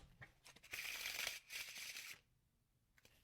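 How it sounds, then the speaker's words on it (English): Playing cards fall in a riffle shuffle as two brisk, close fluttering bursts, each lasting under a second and ending in a soft slap, then quiet before light handling ticks. "to bend the cards the opposite way, and they just fall"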